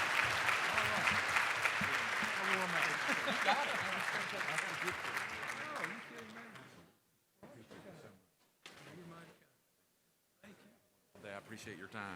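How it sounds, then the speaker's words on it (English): A conference audience gives a loud round of applause after a university president's speech, dense clapping that fades after about seven seconds into scattered claps and quiet gaps. "Another round of applause for his insight and information."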